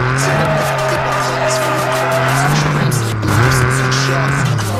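A car in Need for Speed Nitro slides through a drift on a Brazil course, its engine droning steadily while the tires squeal in a sustained, loud, shifting whine with no talk over it.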